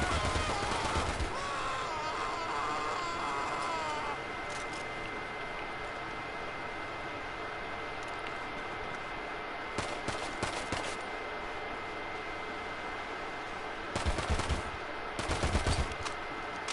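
Machine pistol fire in GTA 5, with short bursts of automatic shots breaking out over a steady background hiss, most clearly near the start and again in the final few seconds.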